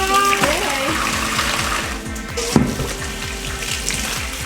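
Tap water runs steadily into a sink or tub, being swapped for fresh water while cleaning out an antique wardrobe, with a brief knock midway.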